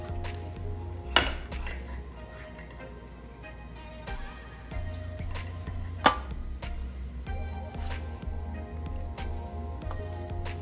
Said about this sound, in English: So I'm just going to take my knife and cut it right down the middle.